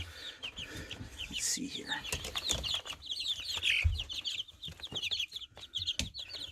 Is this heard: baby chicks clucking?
yes